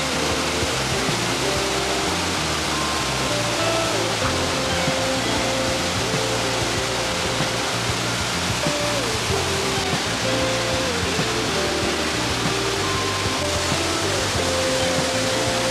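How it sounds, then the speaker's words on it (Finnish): A large waterfall in Malla nature park roars as a dense, constant rushing wash of falling water, loud and unbroken throughout. "Mä en ole ikin vaelluksella nähnyt näin isoa vesiputousta."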